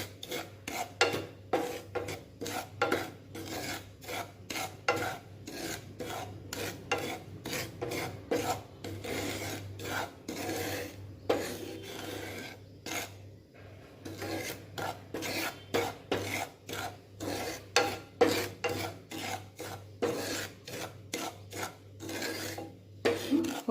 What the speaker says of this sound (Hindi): इसको अच्छा थोड़ा हल्का सा ब्राउन कलर हुए तक ऐसे भुने।